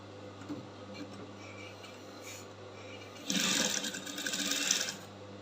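A sewing machine stitches a crinoline flounce in a quick, steady mechanical burst lasting about two seconds, standing out clearly over a faint low hum in a quiet room.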